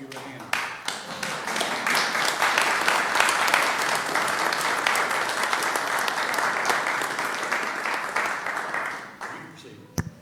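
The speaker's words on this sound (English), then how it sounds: "let's give her a round of applause, but Mr. Moss took care of that" Audience at a Bastrop city council meeting breaking into sustained applause, steady dense clapping from a roomful of people that holds for about nine seconds before fading out.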